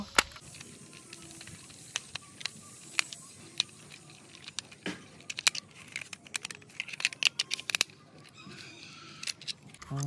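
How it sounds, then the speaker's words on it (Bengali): A screw on a toy auto rickshaw is tightened with a screwdriver, giving faint, scattered small clicks and scratchy ticks against near silence. "এখন শুধু স্ক্রু ড্রাইভার সাহায্যে এটিকে টাইট করব"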